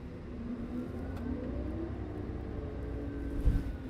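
An LHD scoop loader drives along with a low, steady engine rumble at moderate distance, the drone rising slightly in pitch and loudness toward the end, with no talk.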